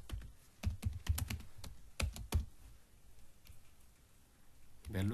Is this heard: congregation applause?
no